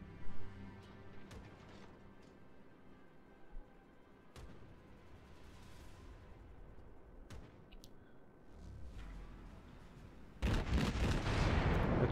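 Heavy battleship guns fire in a World of Warships naval battle, several sharp booming shots spaced across the scene over a low rumbling background, ending in a loud sustained roaring blast.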